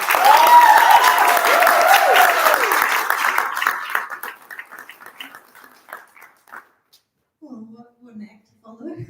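A livestreamed results-launch audience applauds someone with loud, dense clapping and cheering that fades over about four seconds, leaving a few scattered claps and then quiet, with a voice starting to talk near the end.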